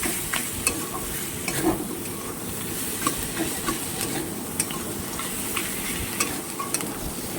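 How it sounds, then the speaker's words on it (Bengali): Fish head and onions fry in a pan while being stirred, a steady sizzle with scraping stir strokes and occasional sharp clicks, fairly close and alone without talk. "এভাবে পুরো ভেজে নিতে হবে ভালো করে"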